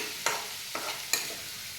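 Paneer cubes sautéed with onion in a pan, a low sizzle with three distinct scraping stirs of a spatula across the pan.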